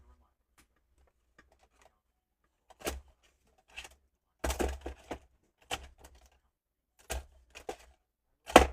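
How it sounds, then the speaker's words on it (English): Fancy scissors snip through paper in a handful of separate crisp cuts, close and fairly quiet, spaced a second or so apart over near silence. "Just cut it with our fancy scissors."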